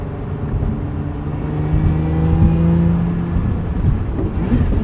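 A 2024 Lotus Emira with a 6-speed manual revs while cornering, its engine note swelling and holding with steady tonal harmonics before easing slightly, loud and near, heard from inside the car.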